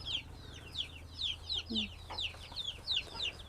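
Meat chickens in a rural Thai backyard garden cluck in a quick, repeated series of calls. A faint low hum runs underneath throughout.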